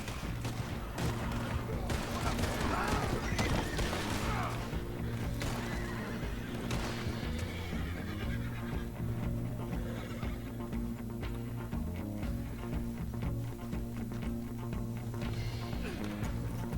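In Red Dead Redemption 2, horses whinny loudly over a busy clatter of hooves, with scattered bangs and a voice briefly calling out amid the commotion.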